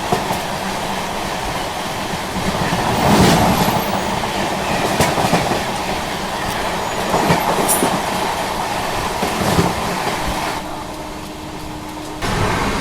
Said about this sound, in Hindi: अभी जस्ट प्रताप एक्सप्रेस निकल गई